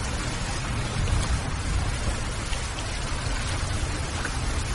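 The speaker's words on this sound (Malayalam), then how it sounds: "ഓ, എന്തൊരു മഴയായത്." Heavy rain pours down in a dense, unbroken roar of drops hitting the ground and surfaces, loud and close for the whole stretch, with no voices.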